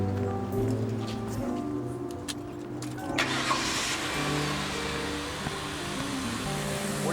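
A car engine cranks and catches, then settles into a steady idle with a brief rev, heard up close over constant background hiss, with no voices.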